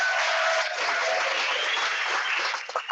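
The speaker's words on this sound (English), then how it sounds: "please clap for" Dense, continuous applause from an audience at a Wikipedia African affiliates welcome session, a thick even roar of clapping that holds steady and thins slightly at the end.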